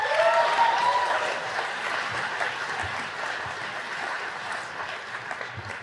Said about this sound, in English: So give a round of applause for yourself.